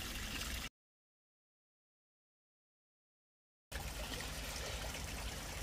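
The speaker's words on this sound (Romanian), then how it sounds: "Am pus oasele la fiert cu apă rece" Cold water poured over bones in a soup pot, a soft steady trickling stream that breaks off into a few seconds of silence, then resumes.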